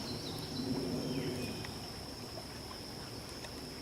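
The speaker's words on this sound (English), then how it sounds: "I hope you can hear that water" A nearby stream flows with a soft, steady trickle and rush, quiet and continuous, with faint background hum and a bird or two.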